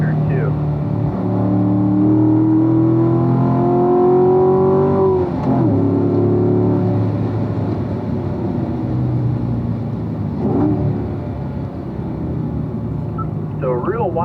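A race car engine holds a steady, loud throttle through the turns of the Ron Fellows track, its pitch sliding up and down under continuous talk.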